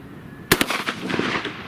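A video game gunshot for a headshot cracks out sharply and close, two quick loud reports followed by a trailing burst of rattling echoes and debris-like clatter, with no talking.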